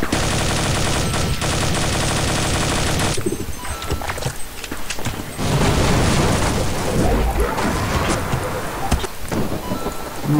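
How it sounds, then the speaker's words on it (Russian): A multiplayer shooter video game fires loud, dense rapid gunfire in long sustained bursts, broken by a brief lull before another heavy barrage. "выстрел в стенку и умер Гаусс"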